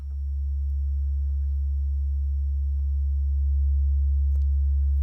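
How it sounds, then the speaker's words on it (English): A modular synthesizer oscillator produces a steady, pure low sine tone that holds at an even level throughout, alone and fairly loud, with no other sounds. "There is our sine wave."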